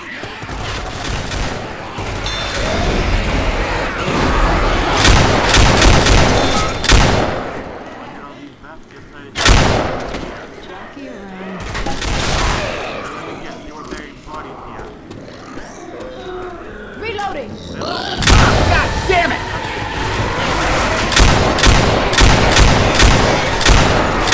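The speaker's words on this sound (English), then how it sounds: "Deploying fire bullets!" Rapid bursts of incendiary-round gunfire in the zombie shooter Left 4 Dead, on a custom werewolf and cyber-zombie map, rattle loudly and nearly nonstop with brief pauses and booming impacts, while a voice talks over the shooting.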